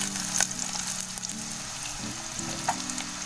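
Chopped onions sizzle in hot oil for a tempering on a wood-fired stove, a steady close frying hiss with faint scrapes of stirring.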